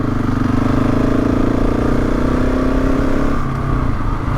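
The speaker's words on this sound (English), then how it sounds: "I suppose one good thing about this bike is the exhaust isn't too noisy" A motorcycle's steady, moderately loud exhaust drone runs continuously from a rider's point of view on a ride through the Yorkshire Dales, with a slight dip in tone near the end.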